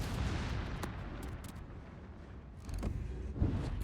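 Naval guns fire armor-piercing shells in a World of Warships battle involving the Italian Tier X battleship Colombo, heard as a few faint, muffled booms over a low rumbling background with no talk.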